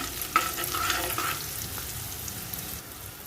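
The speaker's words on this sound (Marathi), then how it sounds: "आता ही चांगलं व्यवस्थित मिरची भाजू देऊया तेलामध्ये" Green chilies sizzle steadily in oil for a Malvani jackfruit bhaji, with turmeric stirred in; close, even frying hiss with a few light scrapes and taps of a spoon, easing slightly near the end.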